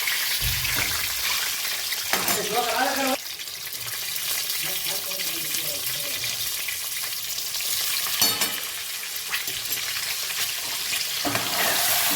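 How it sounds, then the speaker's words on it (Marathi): Eggs frying in oil in a kadai, a steady broadband sizzle running throughout with occasional stirring scrapes; a voice talks briefly over it in the middle. "ह्याच कढईमध्ये तेल टाकलंय आणि त्याच्यात मी अंडे टाकून घेते परतून."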